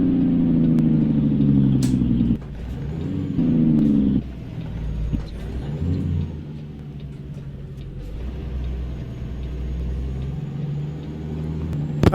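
Jake brake on a Cummins KT-600 engine in a Freightliner Powerliner truck in American Truck Simulator: a loud, steady low engine drone with bursts of harmonic rattling braking, easing and surging over several seconds.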